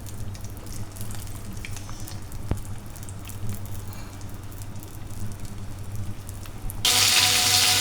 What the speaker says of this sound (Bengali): এখন আমি আবার বেশি করে ভেজে নেব পটলগুলো